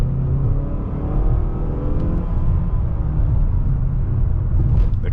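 A Mazda car accelerating, heard from inside as a loud steady engine rumble and rising whir that holds for several seconds with no talk.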